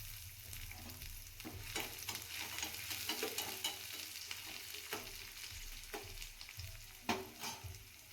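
Red and green chillies with ginger paste stir-frying in hot oil for fried rice, a close continuous sizzle broken by repeated scraping strokes of a spatula and a few louder clanks.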